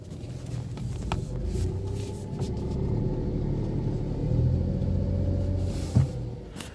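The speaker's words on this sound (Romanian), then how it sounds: "Se aude bine mașinuța." A 15-year-old VW Polo 1.2 petrol engine, left unstarted for four years, idles steadily after its second start, a low even rumble at moderate distance with a few small knocks over it.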